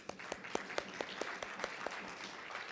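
An audience at an afternoon conference session gives a round of applause, a steady wash of clapping with a few distinct louder claps spaced evenly across it, moderate in level, with no talk.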